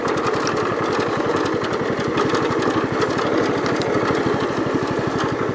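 A 1973 John Deere 110 lawn tractor engine running at a steady speed, a close, rapid and even putter of firing pulses that holds for several seconds without anyone talking.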